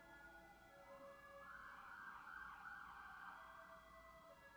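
Sirens from emergency vehicles outside overlap in wavering, swelling tones that build to a peak midway and then ease off, muffled and fairly distant, with no one speaking.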